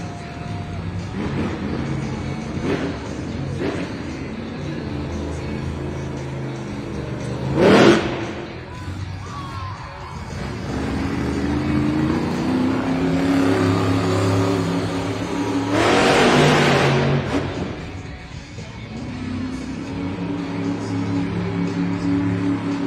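Tim Hall Jr.'s Jurassic Attack monster truck revs in a Monster Jam arena in Spokane, Washington, with rising engine roars and two sharp bursts of power over crowd noise and an announcer's voice.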